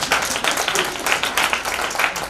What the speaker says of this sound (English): I think there's a hand clap for that one.